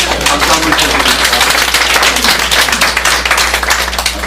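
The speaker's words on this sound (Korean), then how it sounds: "박수 한번 쳐주십시오." A church congregation applauds loudly and steadily, dense clapping filling the hall for several seconds without a pause.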